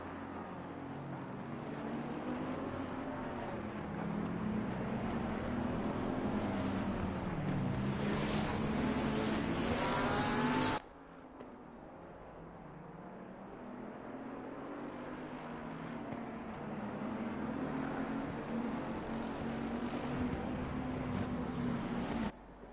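Race cars in a racing video game roll off at Brands Hatch with a Porsche among the field, producing a continuous droning engine sound that rises and falls in pitch, with a sharp cut near the middle.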